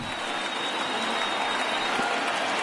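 A dense stadium crowd of thousands roars and applauds continuously in a baseball video game on PS4, a loud steady wash of cheering with no breaks.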